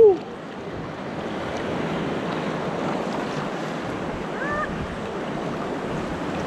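Sea waves wash steadily at Cwmtydu Beach, Ceredigion, a broad, even surf hiss with wind buffeting the microphone, continuous and moderately loud after a brief bump at the start.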